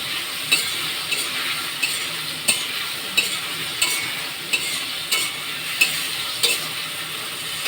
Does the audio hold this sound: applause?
no